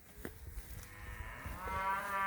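Cattle grazing as a moving herd give a drawn-out moo that rises toward the end, set against quieter low grunts and outdoor ambience, fairly close and with no talking.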